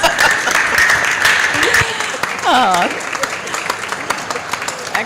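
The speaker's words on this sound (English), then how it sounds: "extra applause" Audience applause at a COP27 subnational ocean solutions panel, clapping under a speaking voice, with a whistle-like tone and a brief exclamation, the clapping thinning toward the end.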